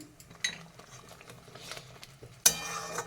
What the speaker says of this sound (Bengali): মশলাটা একটু কষিয়ে নিচ্ছি